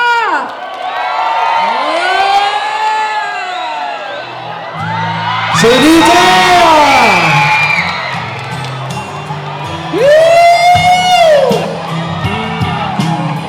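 A lively crowd cheers and shrieks in bursts over amplified music at a shopping mall fan event in Buriram, Thailand, with an excited voice calling out between the loudest swells.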